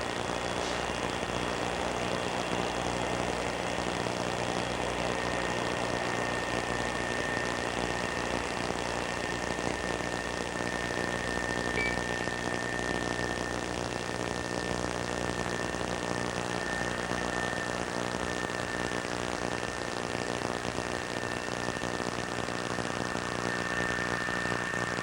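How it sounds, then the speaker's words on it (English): A C-141 military transport plane taxis forward, its engines roaring in a loud, steady drone with a constant whine, unbroken for the full stretch. "we have first motion as the pilot slides the 141 forward"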